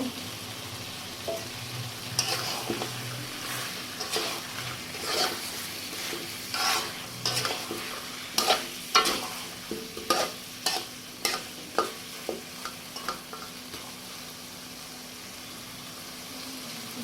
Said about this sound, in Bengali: এখন আমি একটু নাড়া দিয়ে দিচ্ছি